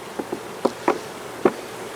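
Honey bees around a hive make several short, close buzzy passes and taps over a low background hum, with no one speaking.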